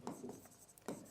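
Chalk or marker writing on a board during a chemistry lesson on lanthanoids and actinoids, a few short scratchy strokes in quick succession, close and quiet, with no speech.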